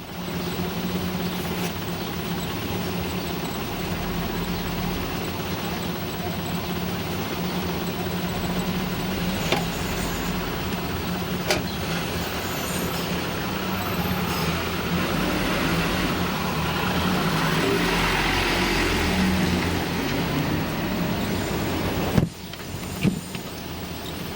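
Military convoy vehicles driving through the streets of Zagreb, a steady loud engine drone and road rumble from inside a moving vehicle, with a few brief knocks and a sharp thump near the end.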